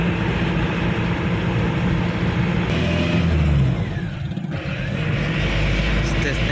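A Tempo Traveller van drives along the road in cold weather. A steady engine drone and road rumble fill the cabin throughout, with a shift in tone partway through.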